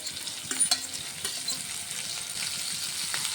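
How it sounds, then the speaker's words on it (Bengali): Fennel seeds, cumin, chopped ginger and green chilli sizzle in hot oil, a soft crackling fry with a few scraping stirs of a spoon in the pan. "তেলটি গরম হয়ে গেছে, দিয়ে দেবো 1 চামচ মৌরি, দেবো 1 চামচ জিরে, দিয়ে দেবো একটু আদা কুচি"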